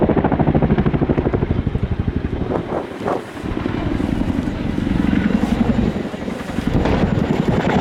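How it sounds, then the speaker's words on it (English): A military display jet at RIAT 2023 pitching up fifty degrees and nosing over in a roller coaster manoeuvre, giving a loud continuous roar with wind buffeting that dips briefly midway, then surges again. "Jim will pitch the aircraft up to 50 degrees from the horizontal before pushing forward on the side click and pitching the aircraft nose over"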